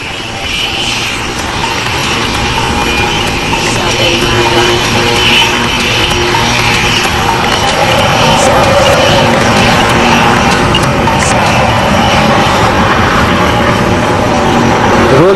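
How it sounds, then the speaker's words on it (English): A Rafale fighter jet flies at an air show, a steady, loud roar that holds for its whole length and swells slightly as the aircraft approaches. "Rolling in from your right, ladies and gentlemen, the Rafale."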